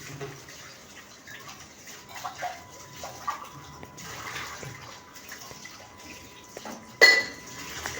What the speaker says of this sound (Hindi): फिनिश हो चुका है, धुला चुका है मेरा बर्तन